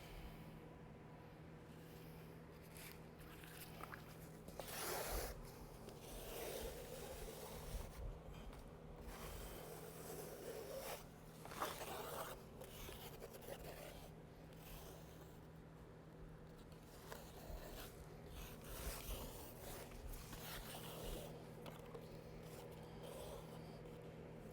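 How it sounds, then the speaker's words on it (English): A notched trowel spreads trowel-grade urethane concrete floor material, making faint, continuous rubbing and scraping strokes with occasional louder swipes against a low background hum. "because we're working in such a small area, we're going to just use a notched trowel"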